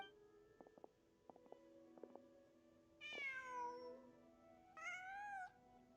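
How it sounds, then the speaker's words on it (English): A cat in the Genshin Impact video game meows twice, each meow clear and drawn out, a few seconds apart, over quiet ambient game sounds with a few soft taps earlier. "Just a cat."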